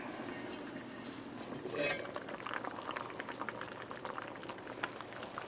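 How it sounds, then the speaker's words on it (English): White bean soup with cauliflower and leeks simmers in a cast iron pan, a soft, continuous bubbling with irregular pops and a brief stir, close and quiet. "now the soup's been cooking a couple hours. Let's take a look."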